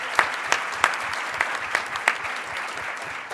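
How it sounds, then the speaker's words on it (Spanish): Audience at an international health panel at the Guadalajara book fair applauding a speaker's welcome, a steady dense clapping with a few louder individual claps standing out near the front, sustained throughout. "Un aplauso."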